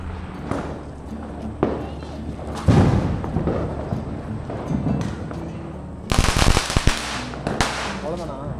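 Diwali firecrackers burst at night, several sharp loud bangs and crackling pops scattered through the clip, with a dense crackling burst near the end, while people talk and call out nearby.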